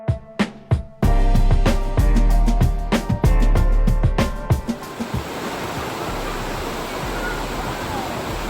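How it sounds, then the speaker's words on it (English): Big ocean waves crash and roar near the shore, opening with a few heavy thumps before settling into a loud, continuous rush of surf. "Big waves."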